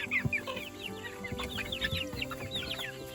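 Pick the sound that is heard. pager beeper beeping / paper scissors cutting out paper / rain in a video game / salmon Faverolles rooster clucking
salmon Faverolles rooster clucking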